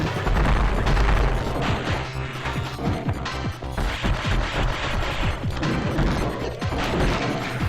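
Relentless barrage of missile blasts and gunfire in a Metroid Fusion boss battle against Ridley, with dense crashing impacts and booming explosions hammering loudly and continuously throughout.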